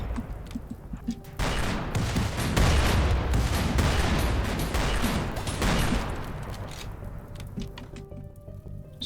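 Dense bursts of gunfire and explosive bombardment in a colony-building video game rumble and crackle in rapid clusters, sustained for several seconds at moderate distance, then thin out toward the end.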